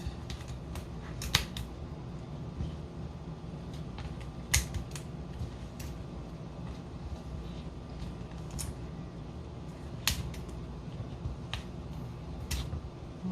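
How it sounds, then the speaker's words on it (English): Scissors or kitchen shears snip the small legs off a raw lobster tail, giving a series of sharp, isolated clicks and cuts spread irregularly over a low, steady room hum, with no talking. "I'm going to cut off these little feet, or whatever you call them."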